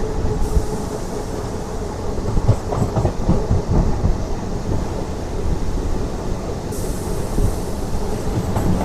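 DEMU passenger train on the Secunderabad to Siddipet run, a loud, continuous rolling rumble with rattling wheel clatter and faint squeals, heard from on board.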